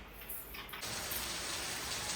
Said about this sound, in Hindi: बारिश हो रही खूब जोर से।